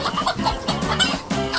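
Hens near a chicken coop cluck in quick, close, overlapping bursts, busy and fairly loud over a short stretch.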